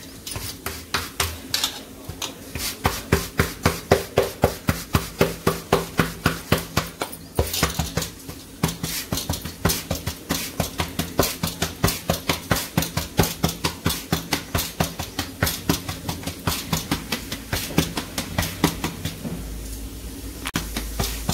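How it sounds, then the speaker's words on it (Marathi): Bajra bhakri dough sprinkled with sesame seeds is patted thin and round by hand. The steady, rhythmic slaps sound close and even, about three each second, with no talk. "भाकरी चांगली पातळ अशी थापायची, गोल गोल आली पाहिजे भाकरी"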